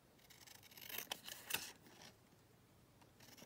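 Scissors cutting paper scraps, a few crisp snips and rustles close by, quiet, with no talk.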